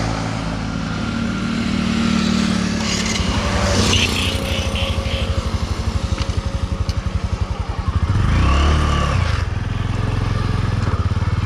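A motorcycle being ridden for mileage, its engine running steadily loud and close, with rhythmic pulsing, a gear change and a brief surge in revs near the end.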